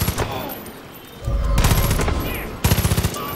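Gunfire in the video game Far Cry 5 bursts out in loud, close volleys, one sustained roar followed by a rapid string of sharp shots, with a voice briefly heard.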